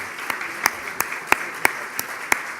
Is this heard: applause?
yes